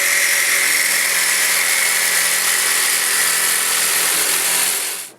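A power tool drones steadily at close range while cutting into the body of a lifted mudding lawn mower, a dense high whine that holds level for about five seconds and then stops abruptly.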